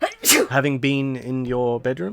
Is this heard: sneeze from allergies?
yes